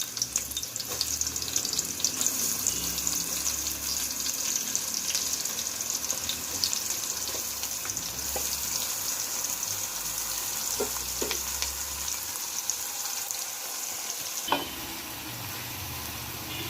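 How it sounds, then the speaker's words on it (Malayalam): Onions frying in hot coconut oil in a pan, a steady close sizzle with occasional stirring clicks and faint watery crackle running continuously, no talking. "എണ്ണ ചൂടായിട്ട് ഇതിലേക്ക് ഉള്ളി ഇട്ട് കൊടുക്കുക."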